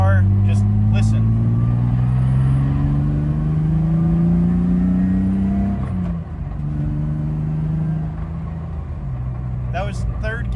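BMW with an M52 big cam engine pulling hard at half throttle in third gear, a loud continuous rising engine drone heard from inside the car, with a brief dip around six seconds as the tone shifts.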